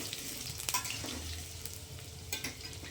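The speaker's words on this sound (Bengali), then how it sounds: "আলুগুলো দেব, ভালো করে ভেজে নেব।" Potatoes sizzle steadily in hot oil in a pan, with brief stirring scrapes and clinks, heard close and alone.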